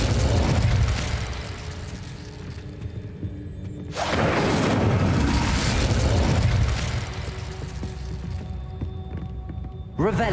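A fire spell cast in the game Hogwarts Legacy erupts as a loud burst of flame, with a sudden roaring whoosh mid-clip following an earlier blast, over steady game ambience with a voice.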